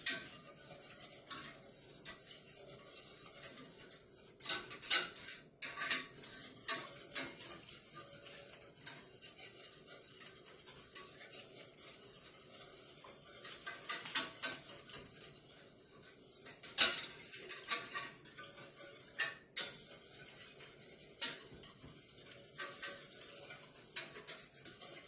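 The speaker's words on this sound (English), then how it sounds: "Let's mix all of these seasonings in." A spoon scrapes and clinks against a pot while seasonings are stirred into Creole soul mac and cheese, soft irregular stirring with occasional sharper metallic taps, close and fairly quiet.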